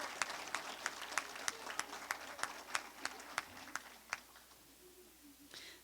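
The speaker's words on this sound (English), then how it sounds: "another round of applause" Scattered hand clapping from a modest crowd at a coronation ball, steady at first and then fading out, with a voice starting near the end.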